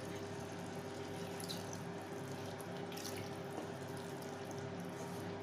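Water runs steadily into a pan holding leftover chili paste while spicy prawns roast is prepared, a constant close stream with no voices.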